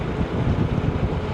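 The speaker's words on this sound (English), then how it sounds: "it's very windy today and my bike is going all over the shop" Strong wind roars across the microphone while riding a motorbike on a mountain road from Da Lat to Mui Ne in Vietnam, a loud continuous buffeting rumble with no voices.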